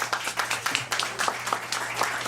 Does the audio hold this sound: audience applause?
yes